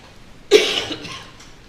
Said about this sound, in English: Or was that a cough?